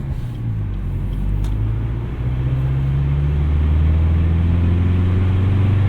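A turbocharged 2008 Chevrolet Cobalt SS driving on a highway, a loud continuous engine drone and road rumble heard from inside, pitch rising steadily as it accelerates.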